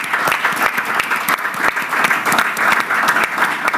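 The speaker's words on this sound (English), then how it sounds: "Quick round of applause to our second startup." Sustained applause from a crowd at a business angels summit, dense steady clapping throughout with no talking over it.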